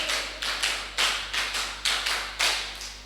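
Students at a school leadership training session clap together in repeated sharp, evenly spaced claps, near and loud, with a constant low electrical hum beneath.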